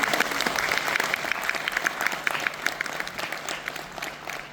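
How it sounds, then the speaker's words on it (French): Applause from the audience at a conference of dubbing actors, a dense, steady clapping from a crowd in a hall that continues evenly without any voices over it. "Applaudissez, vous pouvez applaudir."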